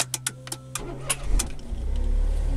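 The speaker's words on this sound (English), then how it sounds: "So I'll just start the Smart now." A Smart Fortwo car converted to run on LPG starts up: a series of sharp clicks, then the starter cranks and the engine catches, settling into a steady, low idle rumble close by.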